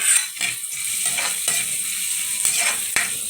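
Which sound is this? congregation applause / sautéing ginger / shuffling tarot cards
sautéing ginger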